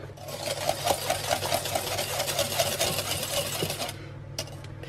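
Vanilla being whisked into a sugary candied-nut coating in a bowl: a fast, steady, rhythmic scraping that runs for about four seconds and then stops abruptly.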